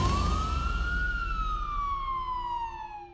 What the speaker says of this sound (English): Sirens blared behind him as the vehicle swerved sharply